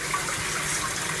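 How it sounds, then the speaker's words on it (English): Water sprays steadily through a sieve filter in an aquaponics tilapia breeding system, making a constant close hiss and splash with no speech. "It's a sieve filter, so the water just sprays through there, blows all the poo away."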